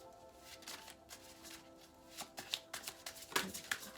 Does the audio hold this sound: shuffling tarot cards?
yes